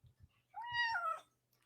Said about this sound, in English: I've never heard a meow like that.